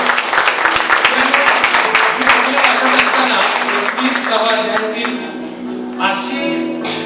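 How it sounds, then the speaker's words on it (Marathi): A crowd claps loudly and fast for several seconds, the applause thinning out as voices and a few tones rise underneath. "एकदा जोरदार टाळ्या आपण परमेश्वरासाठी वाजवू"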